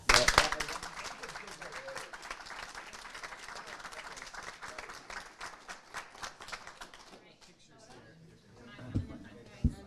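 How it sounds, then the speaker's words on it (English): Applause for student athletes at a board of education meeting, dense clapping from a room full of people that thins out and fades, followed by a brief bump of voices near the end. "So you guys deserve a big round of applause."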